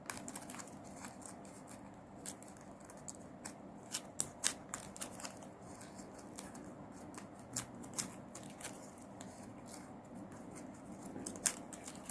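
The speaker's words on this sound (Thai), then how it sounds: "เสร็จแล้วตัดปลายริบบิ้นทิ้ง" Scissors snip off the trailing end of a ribbon while finishing a handmade ribbon-flower coin favour, giving a few faint, sparse crisp clicks and snips over a quiet room background, with no talking.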